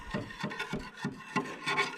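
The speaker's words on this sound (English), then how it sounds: "you go right down the side of it and dress the bar" A file is drawn down the side of a chainsaw bar to dress it, making about five rhythmic raspy scraping strokes in quick succession, close and moderately loud, with no talking.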